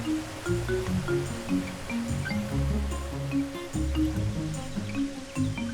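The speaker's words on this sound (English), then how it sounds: "The water's mild 15-foot drop to the shale below adds a relaxing sound to the picturesque scene." Water falls about 15 feet and splashes continuously onto shale, with steady trickling and dripping textures at moderate loudness and no voices.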